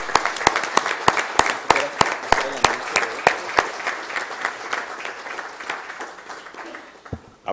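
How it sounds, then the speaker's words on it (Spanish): Sharp, regular claps ring out from a small group at a municipal ceremony, a steady rhythmic applause that gradually thins and fades toward the end. "Brindémosles un fuerte aplauso tanto a los vocales como a los tutores del Consejo Local de Tutelas."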